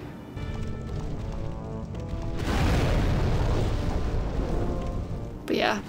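Fiery explosions from the Flame Lurker boss in Demon's Souls, a sustained loud booming roar swelling midway and rumbling on over game music, with a brief sharp burst near the end.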